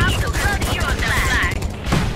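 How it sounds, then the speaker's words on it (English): Rapid gunfire-like bursts and explosive thumps from a grenade launcher in the video game Tribes Ascend, dense and continuous through the clip with a busy in-game soundscape. "So the weapon I'm using right now is a grenade launcher"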